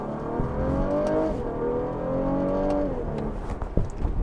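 A 2016 Cadillac CT6 accelerates hard from inside the cabin, its engine note climbing in pitch and then dropping sharply at two quick paddle upshifts, steady and fairly loud throughout.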